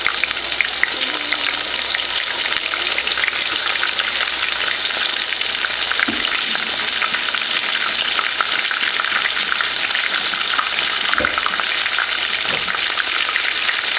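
Freshly caught fish, including crappie, fries in hot oil with a loud, continuous sizzle and crackle that holds steady for the whole stretch, close up and with no talking.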